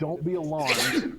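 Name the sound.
sneeze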